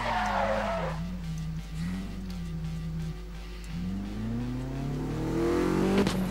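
A race car in Need For Speed Most Wanted roars steadily with engine pitch rising and falling through gear changes, tires squealing briefly, ending in a climbing rev as it speeds up.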